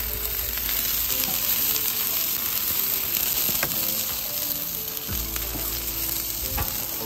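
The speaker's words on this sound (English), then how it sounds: "we're gonna do this real time so you can see just how easy it is to sear tuna" Tuna steaks sear in olive oil in a hot pan, giving a steady, close, dense sizzle that runs the whole time with a few small clinks and bumps from the pan.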